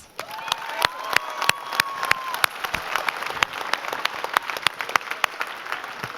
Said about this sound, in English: Now, let's give ourselves a big round of applause.